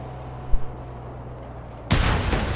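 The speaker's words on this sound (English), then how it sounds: "explosions are so awesome in this game" A sudden loud blast of explosion in the Mad Max video game, from a buggy ramming an enemy vehicle's fuel tank. It bursts in sharply after a quieter stretch of engine rumble and keeps roaring to the end.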